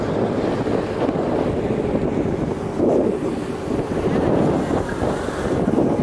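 A canal tour boat cruises through Christianshavn in Copenhagen, steady wind buffeting the microphone over a low engine and water rush, continuous and fairly loud with no talk.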